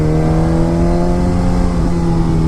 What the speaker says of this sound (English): I really wouldn't expect a bike to sound this cool with the stock exhaust